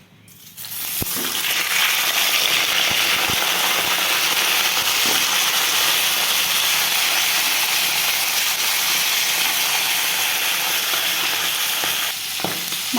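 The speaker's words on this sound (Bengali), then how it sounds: "একটু কড়া করে মাছের মাথাটা ভেজে নিচ্ছি।" A fish head, rubbed with salt and turmeric, fries in oil in a wok, a loud continuous sizzle with occasional stirring clicks, close and without talk.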